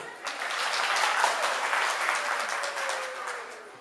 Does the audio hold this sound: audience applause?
yes